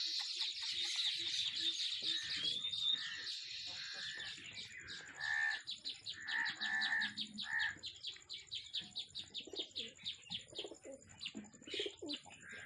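Pigeons cooing and chirping close by, with repeated soft coos and bursts of higher chirps. A faint, steady high-pitched whine continues underneath.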